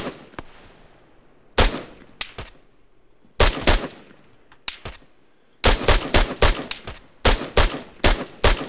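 Loud gunfire in ArmA 3, single sharp shots and short clustered bursts separated by quiet gaps, closer volleys growing denser toward the end.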